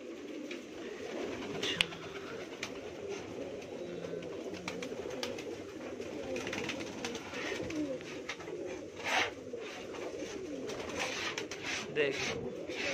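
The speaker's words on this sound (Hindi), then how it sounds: "ये जितने भी ना, ये सभी सब पैर वाले कबूतर है।" Feather-footed domestic pigeons coo softly in a home loft in Mumbai, with low repeated coos running steadily under someone talking nearby.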